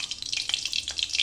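Minced garlic and green chili frying in hot oil in a home kitchen, a steady close hiss and crackle of sizzling with small spitting pops throughout.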